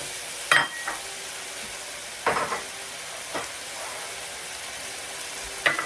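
Onions and tomatoes fry in a pan with a steady soft sizzle, broken by a few louder stirring scrapes and bursts of crackle; there is no talk.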